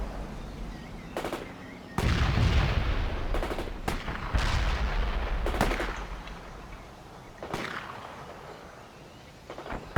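Battlefield combat in the World in Conflict strategy game: sharp bursts of machine-gun fire and heavy booming artillery impacts, with dense rumbling blasts clustered early and scattered shots trailing off.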